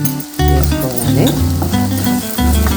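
Onions sizzling in a pan with masala, a steady loud fry with occasional stirring scrapes, close up and continuous without any talking.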